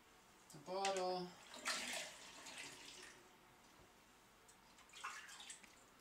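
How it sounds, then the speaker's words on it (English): Fermented kombucha tea is poured through a funnel into a bottle, giving a splashy, gurgling pour that rises after a brief voice, then tapers into softer trickles with a final small burst. "now I'm going to take my funnel and the fermented tea and pour it"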